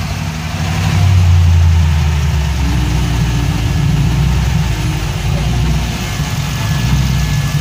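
A car engine catches on the starter and settles into a steady, loud idle on a stock ECU with a standalone wiring harness, the rumble holding even and continuous with no talk.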